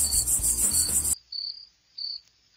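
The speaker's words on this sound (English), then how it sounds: "The correct animal is grasshopper." A grasshopper in an animated cartoon chirps in a fast buzzy trill that stops abruptly, followed by two isolated short high chirps, with no talking.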